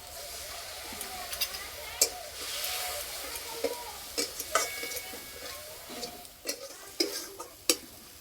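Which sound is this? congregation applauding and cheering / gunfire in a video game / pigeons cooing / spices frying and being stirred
spices frying and being stirred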